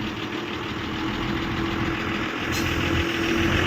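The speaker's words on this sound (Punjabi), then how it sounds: "ਲੋ ਜੀ ਹੋ ਗਈ ਗੱਡੀ ਸਟਾਰਟ" A sugarcane-loaded truck's engine idles steadily with a low, continuous rumble and no voices.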